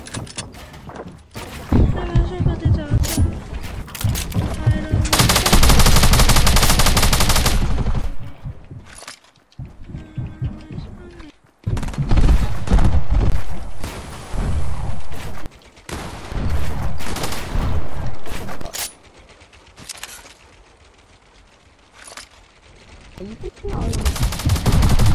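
Fortnite gunfire in repeated loud bursts of rapid automatic shots with single cracks and thuds between them, broken by brief lulls, while players talk over it.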